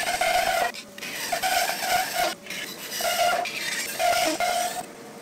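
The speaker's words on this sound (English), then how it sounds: "And went to the bandsaw to cut as much waste as possible." Bandsaw cutting away waste wood from a broom blank, a close, loud, hissing whine with a steady tone that surges in several passes and dips briefly between them.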